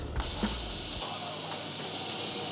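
Onions go into a pan with a thin coat of oil, giving a steady close hiss and sizzle. A soft low thump sounds near the start.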